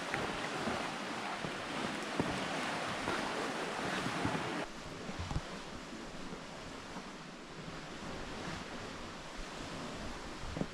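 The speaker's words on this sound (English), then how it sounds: "See the waves?" Waves crash against a rocky Northern Ontario shore in a steady, loud roar of surf, mixed with gusting wind buffeting the microphone, with no one talking.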